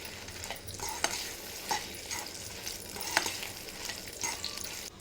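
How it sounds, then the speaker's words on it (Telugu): Gongura sorrel leaves fry in a little oil in a pan, a soft steady sizzle broken by periodic scraping and stirring strokes, fairly quiet with no voices. "ఆ మాత్రం ఆయిల్ సరిపోద్దంట వేయించేసి పక్క తీసేద్దాం"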